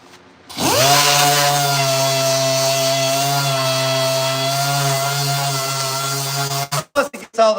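Power sander working sheet-metal firewall panels for a 1973-1987 build, a loud steady whine starting after a brief pause and running continuously before cutting out with a few short bursts at the end.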